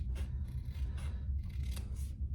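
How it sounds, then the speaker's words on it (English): Scissors trim the corner of a hot pink fabric waist pack, making four or five quick, close, crisp snips in a rhythmic series with no talk. "I am going to trim this corner"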